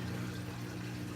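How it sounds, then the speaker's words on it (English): Steady rushing of water draining inside a Whirlpool top-load washing machine during a diagnostic test cycle, continuous and fairly loud with a low humming pump underneath. "draining out all the water as we go along"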